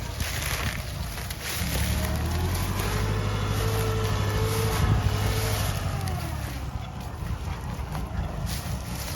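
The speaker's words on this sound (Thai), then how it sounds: "นี้เป็นรถไถนะครับ" A Kubota 45 hp farm tractor fitted with a sugarcane grab runs its diesel engine nearby, a steady low chugging drone that swells slightly partway through and holds, with a voice talking over it.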